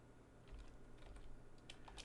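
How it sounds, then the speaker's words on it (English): Soft, quick taps on a computer keyboard, faint and close, in a short irregular burst with no voices. "I'm going to type in"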